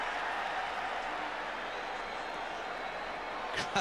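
Cricket crowd at a 2001 Test match between India and the West Indies, a steady broad roar of cheering and applause sustained throughout, with a brief louder burst of clapping near the end.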